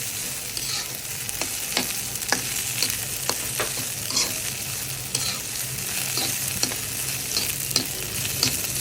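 Bharta ingredients stir-fry in a pan, a continuous close sizzle broken by regular scraping clicks of a spatula against the metal.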